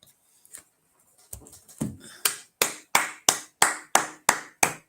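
At the Igbanke Unity Festival, a few scattered claps settle into a steady rhythmic clapping, about two sharp claps per second, close and fairly clear.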